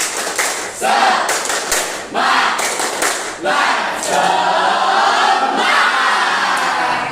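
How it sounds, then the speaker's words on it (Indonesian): A school class in a classroom claps a rhythmic cheer pattern, bursts of clapping broken by short pauses, mixed with children's voices shouting along in unison. "Tepuk semangat."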